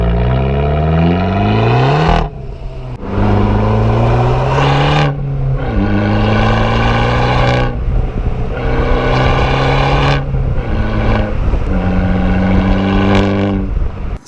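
Abarth 695 Esseesse engine revving hard through the gears on a road drive, loud and continuous, pitch climbing in each gear with brief dips at the shifts.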